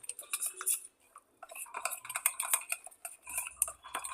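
A spoon scrapes and clinks against a bowl while stirring a thick garam masala paste for dhaba-style paneer curry, close rapid clatter in busy bursts with a short pause near the middle.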